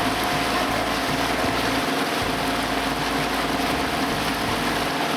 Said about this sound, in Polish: Przypominam, że to jest cały czas totalnie zimny silnik. Przed chwilą żeśmy go odpalili.